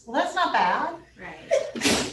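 A sneeze bursts out between stretches of conversation, a sharp loud exhalation close by as people keep talking around it.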